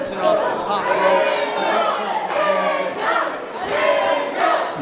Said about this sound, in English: You hear the crowd now getting behind the real one.